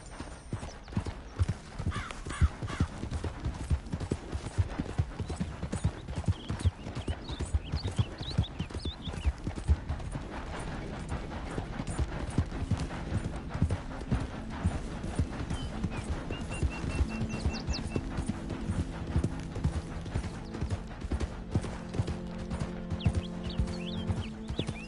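Horse hooves clip-clopping at a steady riding pace in the Red Dead Redemption 2 game, a continuous rhythmic trot with occasional neighs and background game music and ambience.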